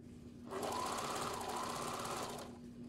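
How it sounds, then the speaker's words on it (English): A sewing machine runs steadily for about two seconds while top stitching the folded facing of a bolero jacket, with a quiet lead-in and tail on either side. "I just fold it down and top stitch it"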